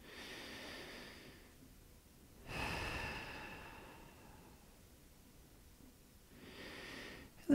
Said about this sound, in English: Take a couple more full breaths here.